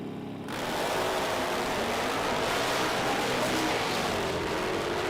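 Bagger motorcycles launch side by side from the start tree at the AMRA Ohio Nitro Nationals drag race. After a brief quiet moment, a loud, sustained roar of engines comes in and holds steady, with no talk.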